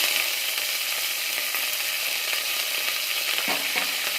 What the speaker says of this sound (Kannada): ಇದನ್ನ ಇವಾಗ ಚೆನ್ನಾಗಿ ಫ್ರೈ ಮಾಡ್ಕೋಬೇಕು.